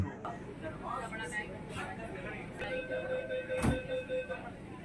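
Kolkata underwater metro train running into Esplanade station, a faint low rumble with some clanks and a brief louder thump, under a person talking and light background chatter.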